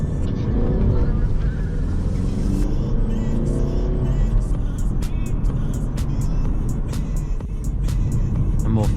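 A Mercedes-Benz A Class AMG Sport diesel runs while driving, a loud, steady low engine drone with road noise heard from inside the cabin, rising slightly in pitch as it accelerates.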